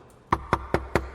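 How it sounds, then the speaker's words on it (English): Five firm, evenly spaced knocks on a door, close and distinct, each a sharp thump rising from near silence. "Unexpectedly, there's a knock at the door."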